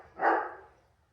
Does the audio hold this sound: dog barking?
yes